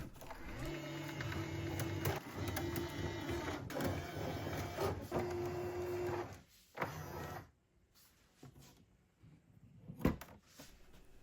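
Mechanical whirring and motor hum with steady tones and clicks from a Bambu Lab 3D printer and AMS filament system running up close, then a quieter stretch with a few sharp knocks.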